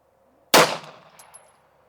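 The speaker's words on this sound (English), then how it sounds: "Going to do the same thing again, another 5-shot group." A single sharp pistol shot fired with Clean Shot powder loads cracks loudly and alone, followed by a brief fading echo.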